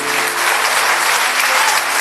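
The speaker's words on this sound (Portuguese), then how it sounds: "aplauda e glorifica o nome do Senhor" A church congregation claps during a sermon, giving dense, continuous, loud applause that fills the whole moment.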